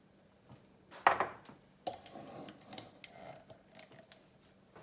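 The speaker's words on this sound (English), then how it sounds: "making sure that you grab, get everything that's underneath and at the bottom as well, and just kind of gently fold everything in" Spatula scraping and folding pancake batter in a bowl, soft intermittent clinks and scrapes with quiet pauses between strokes, close and gentle.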